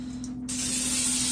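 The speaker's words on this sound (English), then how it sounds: "I'm gonna spray my pan here with some olive oil" Olive oil sprayed onto a sheet pan in a kitchen: a steady close hiss of the spray starting abruptly and continuing, over a faint low hum.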